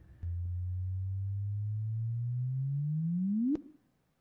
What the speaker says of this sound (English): you can hear the chirp from the data of what was actually detected